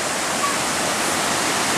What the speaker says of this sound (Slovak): Pri vodopáde.